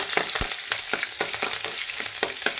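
Green chillies and urad dal (black gram) sizzle and fry in a pan, a steady crackling hiss broken by repeated scraping and stirring strokes, close and clear, with no talk.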